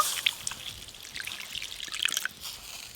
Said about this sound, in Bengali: অল্প আর একটু জল দেব।